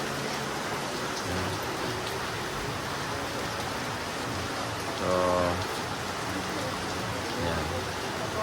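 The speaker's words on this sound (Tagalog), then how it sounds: "Lakas ang ulan." Heavy rain pours steadily outdoors in a broad, constant hiss close by, with people speaking briefly over the downpour.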